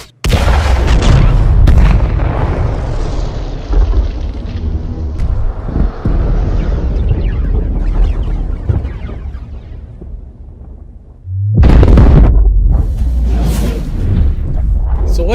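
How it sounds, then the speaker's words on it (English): Spaceship explosions from a video game boom one after another, heavy rumbling blasts with whooshing debris that decay over several seconds before a second loud burst erupts near the end. "Oh, you found the ship explosions video."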